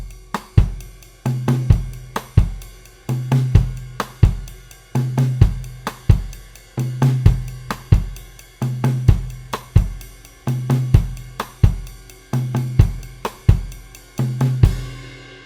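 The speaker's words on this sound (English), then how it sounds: "Another sound that you hear fairly often with this type of a groove is a cross-stick sound on the snare drum instead of a regular backbeat sound." Drum groove on a kit with cross-stick clicks on the snare in place of a regular backbeat, steady repeating pattern with low kick or tom thumps, close and loud, no talking.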